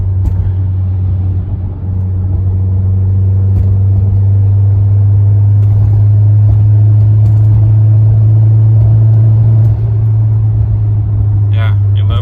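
Steady, loud low engine drone from an Audi A4 B6 1.8t cruising in fourth gear with a misfire, a continuous rumbling hum inside the cabin while someone talks over it.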